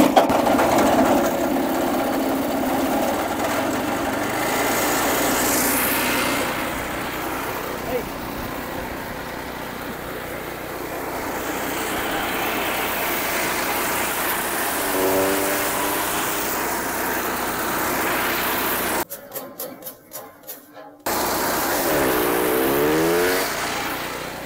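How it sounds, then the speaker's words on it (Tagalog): A Briggs & Stratton engine drives a grass chaff cutter shredder for cattle feed, running steadily with a constant mechanical drone for most of the stretch. The engine briefly cuts out near the end, and a voice talks over it. "Try po natin yung ating pong shredder machine."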